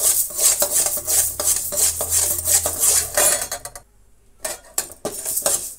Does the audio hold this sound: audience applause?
no